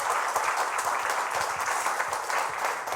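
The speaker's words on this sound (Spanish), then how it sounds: "Pues den un aplauso, ¿no?, a sus pastores por lo que hacen." A church congregation claps for its pastors, a continuous wash of many hands applauding at moderate volume with individual claps faintly distinct, steady throughout and with no talk over it.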